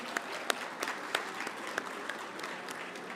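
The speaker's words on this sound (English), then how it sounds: "give a quick round of applause to the VICC staff" A room full of people clapping steadily at a conference keynote dinner, a sustained round of applause with individual claps standing out.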